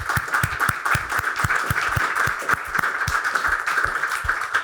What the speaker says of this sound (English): So maybe another round of applause.